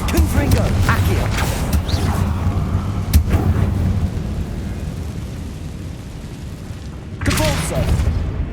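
A Confringo blasting spell cast in Hogwarts Legacy, booming fiery impacts with mechanical rumble amid game noise, a sharp burst early on and another loud blast near the end, with speech in the background.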